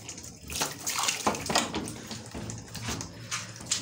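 Water is poured onto a hydroponic tray, splashing and gurgling unevenly with several bursts of pouring, close and fairly loud.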